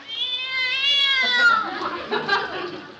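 A cat meows in a long, rising and falling caterwaul that fades into scratchy noise, heard close and clear as a sound effect in an old-time radio family comedy.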